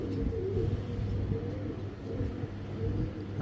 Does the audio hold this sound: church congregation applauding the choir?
no